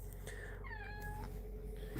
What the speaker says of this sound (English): You gonna meow at me?